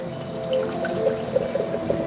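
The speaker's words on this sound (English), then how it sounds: "Let's do the hard pour on this one." A hard pour of beer from a large can into a Pint Time pint mug: a steady, close liquid rush with fizzing and light splashes, continuous throughout with no talking.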